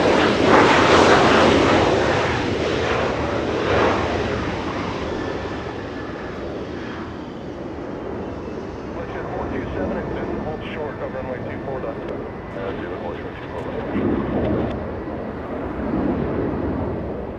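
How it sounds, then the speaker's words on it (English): A Southwest Boeing 737 MAX 8 lines up on runway 24 left at Los Angeles International Airport, its loud, steady jet engine roar filling the scene, with voices talking underneath. "Southwest 1935 flying to Kona, lining up on 24 left. A 737 MAX 8."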